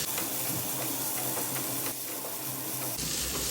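Shredded fried chicken sizzles and hisses in a hot pan while it is stirred, a continuous close frying crackle with a faint scraping texture and no talk.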